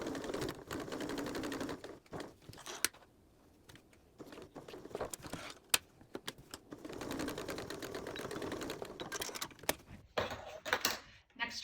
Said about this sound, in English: Now we're going to sew on either side of the slit